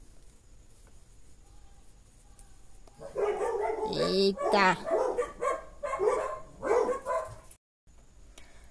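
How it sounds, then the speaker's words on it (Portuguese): Several dogs bark nearby in a home setting, a burst of loud, overlapping yips and barks that starts abruptly and continues in clusters, with a brief exclamation from a person. "Passou a molecada aqui gritando e os cachorros começaram a latir."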